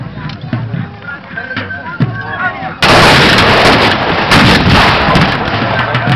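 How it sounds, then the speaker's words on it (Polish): Napoleonic artillery fires on a fortress during a battle reenactment at Koźle, a sudden loud cannon blast whose roar and rumble linger, following a stretch of outdoor crowd noise and talk. "Artyleria napoleońska ostrzeliwuje twierdzę."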